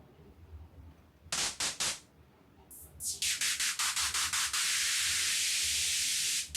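Harsh white noise from Ableton's Operator synth that switches on in short stuttering bursts, then settles into a loud, continuous hiss with the lows filtered away by an auto filter.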